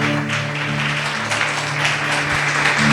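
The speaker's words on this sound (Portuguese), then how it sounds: "Louve ao Senhor com as suas palmas." A church congregation claps together during a Portuguese-language service, a dense, steady wash of applause over a faint sustained musical tone, with no talk.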